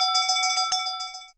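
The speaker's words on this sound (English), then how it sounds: "In such cases, a bell will sound." An interlock warning bell in an open-top industrial radiography bay rings steadily and loudly for over a second, then cuts off abruptly.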